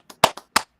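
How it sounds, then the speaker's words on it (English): A handful of sharp, close hand claps in quick, uneven succession on a sports league podcast, brief and isolated with no talk over them. "clap for that"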